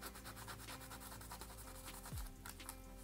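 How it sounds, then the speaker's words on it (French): A sanding block rubs across a brass surface, making a quiet, steady scratchy scrubbing with repeated short strokes, close by and without speech. "Vous prenez votre bloc à poncer, pardon, et vous poncez la surface"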